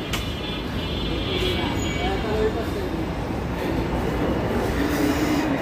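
A Dhaka metro train rumbles steadily close by, with a continuous roar and faint squeals of wheels on rails, and voices murmuring in the background.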